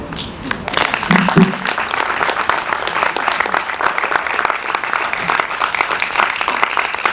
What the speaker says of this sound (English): Let's keep clapping for her